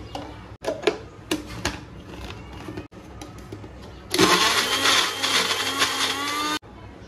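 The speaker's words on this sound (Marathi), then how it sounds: "आता मी हे खजूर वाटून घेते." Mixer grinder running steadily for about two seconds as it grinds dates for pani puri chutney, a loud continuous whirring buzz that cuts off abruptly, preceded by scattered kitchen clatter and handling noises.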